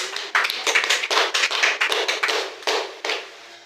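A church congregation applauding for the Lord, a brisk burst of many hands clapping together, loud and fairly close, with no talk over it.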